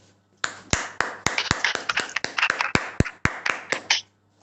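Scattered claps from participants on a Zoom call, a loose irregular patter of individual hand claps close to the microphones, starting after a short pause and ending abruptly.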